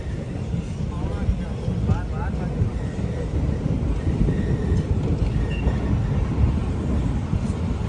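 A stopped Kisan Express train sits at Bhiwani junction platform while a steady low rumble and hum of rail machinery and wind fill the air, with faint voices in the background.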